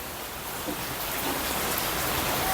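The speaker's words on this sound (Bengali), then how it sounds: "বৃষ্টি হচ্ছে" Steady rain falling, a dense even hiss of drops with no breaks, fairly close and moderately loud throughout.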